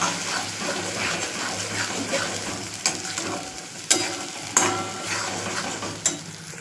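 Tomato, onion, garlic and coriander sauté in a pan with a steady close sizzle, punctuated by a few sharp clinks and scrapes of a spoon stirring against the metal.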